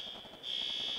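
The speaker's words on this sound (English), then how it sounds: "That's the fire alarm." A fire alarm sounds in a conference hall during a mining presentation, a shrill continuous high-pitched tone that swells louder partway through and holds steadily.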